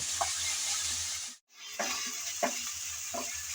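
Ginger, garlic and onion frying in oil in a pan, a steady sizzle with a few scraping stirs of the spatula and one brief drop-out.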